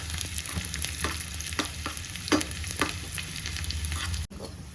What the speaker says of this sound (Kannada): ಈಗ ತುಪ್ಪ ಬಿಸಿಯಾಗಿದೆ, ಈ ಈರುಳ್ಳಿನ ಫ್ರೈ ಮಾಡ್ಕೊಳ್ತೀನಿ